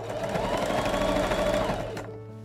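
A sewing machine runs steadily and loudly while stitching taffeta trim onto a Victorian bodice, then stops abruptly near the end.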